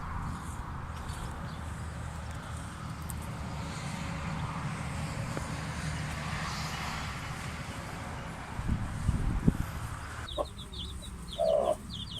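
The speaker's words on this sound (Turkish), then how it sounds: "Kara tavamız civcivlerini çıkarttı." A black hen clucks softly with her newly hatched, faintly peeping chicks over steady outdoor background noise, a few louder clucks and scratching near the end.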